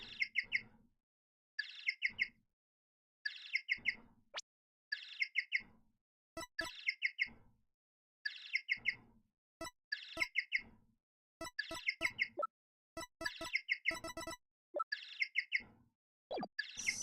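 A chirping phone ringtone in the Apollo Justice video game, repeated bursts of bright bird-like tweets in a steady looping rhythm, with sharp clicks and blips from the game between them.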